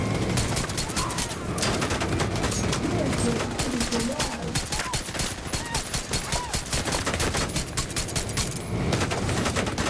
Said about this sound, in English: It'll be a lot easier to handle without all the other gunfire coming at me.